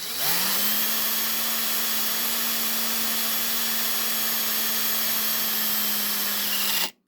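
A power drill spins up and runs at a steady high-pitched whine for several seconds while drilling a Matchbox die-cast toy tanker, then abruptly stops; loud and close.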